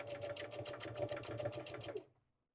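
Sewing machine stitching a seam through fabric, a steady fast rhythmic whirring clatter for about two seconds that then stops, close and clear with no talking.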